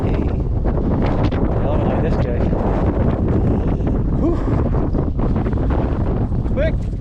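Strong gusting wind buffets the microphone at an exposed hilltop wild camp, a loud, continuous roar with no lulls as people talk underneath.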